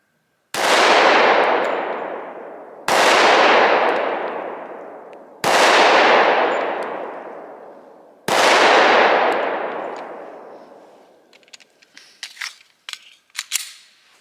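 Four loud, evenly spaced shots from a Smith & Wesson M&P 10mm Auto handgun, each cracking sharply and ringing out for a couple of seconds, followed by faint metallic pings of steel targets being hit.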